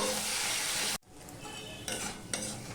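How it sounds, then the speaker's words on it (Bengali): Tomatoes fry and are stirred in a pan for Bengali-style fish head dal, a loud sizzle for the first second that abruptly drops to a softer frying hiss, with a couple of spoon scrapes against the pan. "আর দিয়ে দিলাম এই টমেটোটুকু দিয়ে এটা আমি কষাতে থাকবো"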